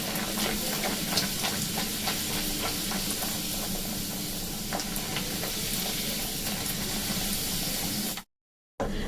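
Chana dal-stuffed puri fries in hot oil with a constant close sizzle and crackling hiss, steady and fairly quiet, ending in a brief moment of silence.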